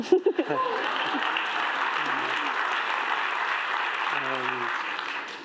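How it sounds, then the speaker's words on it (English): A conference audience at a storytellers summit breaks into steady, dense applause that holds throughout, with a voice briefly speaking over it at the start and again near the end. "I don't know if I should celebrate that applause."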